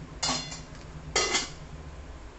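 Two short metallic clanks from a steamer pot lid being lifted off after steaming kozhukattai, the second one sharper, each a bright clatter that rings briefly before fading into a low kitchen hum.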